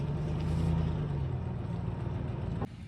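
A 1982 Camaro Pace Car engine with an exhaust manifold leak idles steadily and close by, a continuous low rumble with a hissy edge that cuts off abruptly near the end.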